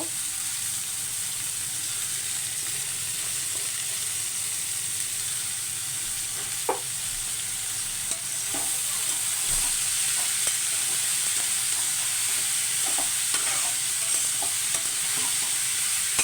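Bitter gourd pieces fry in oil with turmeric, salt, onion and garlic, giving a steady soft sizzle that grows slightly louder partway through. Occasional spatula scrapes and taps are heard, with no speech.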